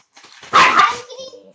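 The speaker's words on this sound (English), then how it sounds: "This is my crazy dogs, Chase and Shadow." A couple of pet dogs bark and yip excitedly indoors in a short, loud burst, with people talking over the commotion.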